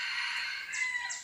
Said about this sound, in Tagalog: Meron pa tayong tandang.